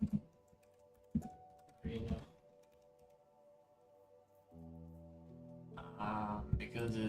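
Computer keyboard typing at a desk, short scattered bursts of key clicks between pauses, faint and close, with someone talking intermittently.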